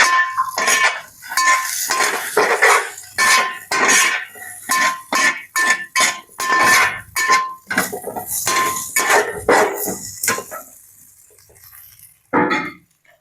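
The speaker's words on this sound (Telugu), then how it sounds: "ఇందాక సైడ్కి తీసుకున్నాం కదా పొటాటోస్, అవి కూడా దీంట్లో వేసేసి మిక్స్ అయితే చేయాలి రెండునే" Potatoes mixed into curry in a metal pan, with loud, close clanking and scraping of a ladle against the pan in quick repeated strokes that fade toward the end before one last clatter.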